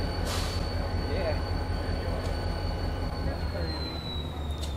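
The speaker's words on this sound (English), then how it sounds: "With the two diesels now coupled up, number 7 then began the journey back to Goshen." Two coupled diesel locomotives move a train on a steam excursion line, a steady close rumble of rolling wheels and engines with a high faint squeal, under a continuous wash of noise.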